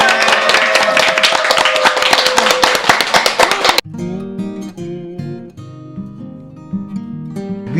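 Studio audience gives a loud burst of dense, rapid clapping for a few seconds at the opening of a Korean psychology counseling talk show, then it cuts abruptly to soft piano music.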